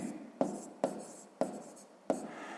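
A pen writes on paper during a sixth-grade maths exercise, giving four sharp tapping strokes, each followed by a soft scratching trail, close and quiet.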